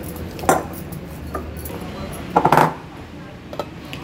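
A lid goes onto a bowl of stiff, oiled karanji dough with a few sharp metallic clinks and clatters, one light and one louder cluster, close by with a faint voice in the background.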